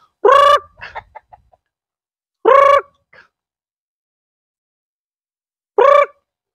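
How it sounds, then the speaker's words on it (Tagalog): Short bursts of chicken clucking come in three separate calls with brief softer clucks between them, fairly close and with no talking. "So ito, halos ito na lang lahat yung mga alaga nating manok."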